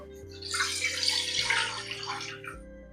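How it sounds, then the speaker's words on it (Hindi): Water is poured into a wok while making gulab jamun, a steady splashing gush that swells and fades over about two seconds, close and alone with faint background music. "कढ़ाई में पानी डाल देंगे"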